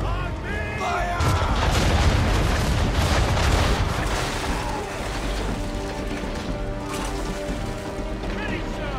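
Naval cannons fire from a sailing warship in Assassin's Creed III, heavy booms and crashing impacts rolling over a constant sea-battle din, with shouted voices now and then.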